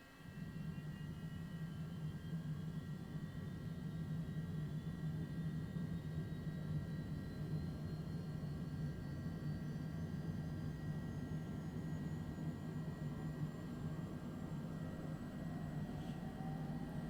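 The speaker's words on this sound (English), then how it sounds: "we are ready to fire up engine 2." A Longitude aircraft's number 2 engine spins up with a steady low roar and a slowly rising whine building over the whole stretch, loud and close.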